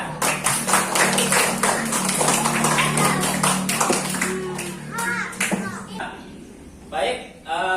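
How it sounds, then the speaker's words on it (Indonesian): Schoolchildren in a classroom clap for a classmate, a burst of quick, crowded handclaps lasting a few seconds before it stops and children's voices and a teacher's speech follow. "beri tepuk tangan dulu untuk temannya"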